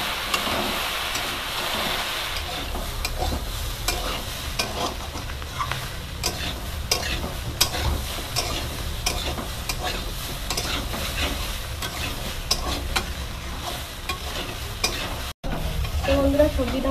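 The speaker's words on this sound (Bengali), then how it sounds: "হলুদটা দিয়ে ভালো করে ভেজে নেব" Mixed vegetables fry with turmeric in a pan for a Bengali panchmishali curry, a continuous sizzle broken by repeated scraping strokes of a spatula stirring them, with a brief cut near the end.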